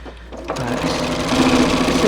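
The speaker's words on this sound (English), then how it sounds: "it is very difficult for the sewing machine to go through this huge lump" A sewing machine runs steadily as it hems the edge of a tablecloth being made into a long baby wrap. It starts after a short pause, then whirs continuously, close and loud.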